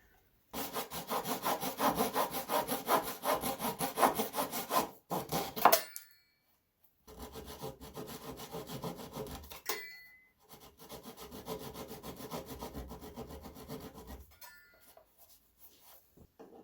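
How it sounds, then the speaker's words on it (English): A flush cut saw trims wooden plugs on a rescued coffee table in several bursts of quick, rasping back-and-forth strokes, close and clear, separated by short pauses. "I'll cut them off with a flush cut saw"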